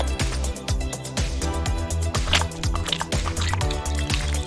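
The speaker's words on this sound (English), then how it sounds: "Now for a little quick rinse." Water splashes and pours steadily over hands being rinsed under a tap, a continuous close liquid rush with rhythmic dripping accents and no talking.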